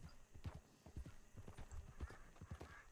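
Horse hooves clip-clopping in the video game Red Dead Redemption 2, a steady rhythmic trot of soft, close thuds lasting the whole stretch, quiet and alone.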